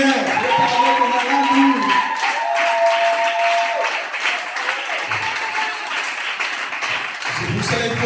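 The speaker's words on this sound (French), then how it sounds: "Est-ce qu'on peut acclamer? Bon, acclame bien." A church congregation cheering and clapping after a sermon, a burst of crowd noise with a voice over it, fading briefly before rising again.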